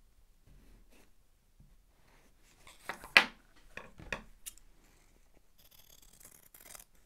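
Scissors cut through iron-on interfacing for mending a torn jean belt loop, giving a few close, crisp snips and rustles of stiff fabric in an otherwise quiet room, ending with a faint papery shuffle.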